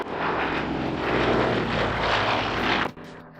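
Vintage propeller aircraft flying over the Oshkosh airshow, a loud, steady engine drone that swells slightly mid-pass and then cuts off abruptly near the end, with no one talking.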